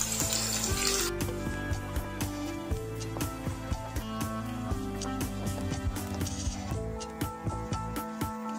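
Onions frying to golden brown for beef nehari: a steady, close sizzle broken by frequent sharp clicks and taps of stirring, over a faint tonal hum.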